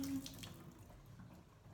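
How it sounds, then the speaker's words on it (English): Water trickles and splashes as excess liquid is strained out of a glass jar of soaking alfalfa sprout seeds, a short steady pour that is fairly faint and close, with no voices. "I'm just going to come back and strain out the excess water"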